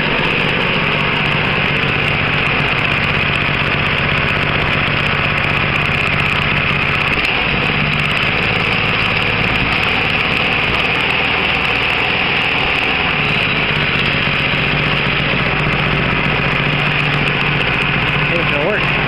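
A small welded go-kart engine runs loud and steady for the whole stretch, droning without a break, with voices faintly underneath.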